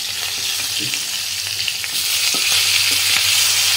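Rohu fish pieces frying in hot oil in a pan, a loud continuous sizzle and crackle with a few soft scrapes of stirring, close and alone without talk.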